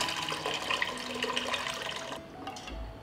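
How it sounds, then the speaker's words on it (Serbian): Water poured from a glass jar into a cooking pot, a steady splashing gush for about two seconds that stops abruptly, leaving quiet room tone with a faint low thud at the end. "vodu iz tegle sipaću u šerpu"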